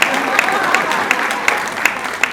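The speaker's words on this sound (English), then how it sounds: "If you are not pushing, you better clap" An audience applauds loudly and steadily, and the dense clapping fills the room. A few sharper claps stand out at roughly regular intervals above the continuous wash of hands.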